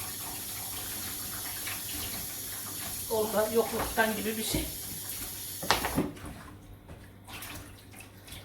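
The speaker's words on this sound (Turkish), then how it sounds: "Evet, eti yıkayacağım." Raw meat is washed under a running kitchen tap, a steady hiss of flowing water with some splashing bursts in the middle, and someone speaks briefly over it.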